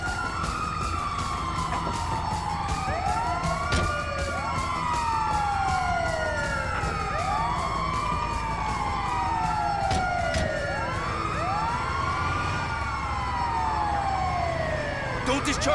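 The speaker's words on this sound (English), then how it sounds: "The ambulance!" An ambulance siren in Grand Theft Auto V wails continuously in rising and falling sweeps, loud and close, over steady engine and traffic noise, with intermittent clicks.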